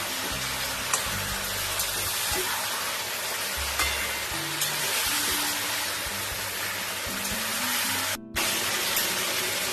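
Dried red chillies and bay leaves hitting hot oil in a pan, a loud continuous crackling sizzle and spatter with scattered pops, steady throughout apart from one very brief dropout near the end.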